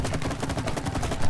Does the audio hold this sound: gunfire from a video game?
yes